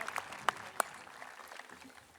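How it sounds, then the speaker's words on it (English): Fading applause at a high school graduation ceremony, with a few sharp nearby claps standing out early before the sound thins into a soft, scattered patter. "Let's hear one more round of applause for our senior choir students and for their conductor, Mr. Stuart Buteau."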